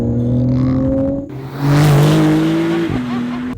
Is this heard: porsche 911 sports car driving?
yes